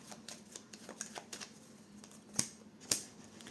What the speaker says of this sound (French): je vais juste recouvrir donc ce 9 de pique et le 8 de pique